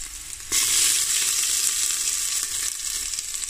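Garlic and onion hitting a hot pan, a sudden loud sizzle that starts about half a second in and holds steady, close and with no talk.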